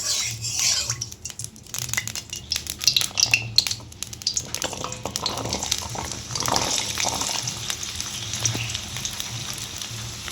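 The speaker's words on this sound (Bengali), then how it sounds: "আলু কুমড়ো আমি দুটো একসাথেই ছাঁকা তেলে ভেজে নেব।" Potato and pumpkin deep frying together in hot oil in a kadai, giving a continuous close crackle and sizzle with scattered clinks and scraping stirs. No speech.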